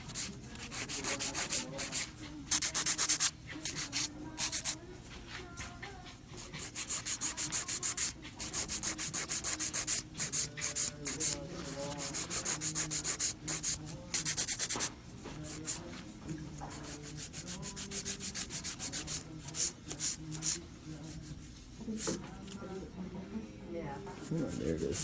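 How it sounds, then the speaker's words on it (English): Emery board rubbing back and forth across an acrylic nail surface in repeated close, scratchy strokes that run almost continuously, with a voice speaking over parts of it. "So I run the emery board to the top of it on both sides."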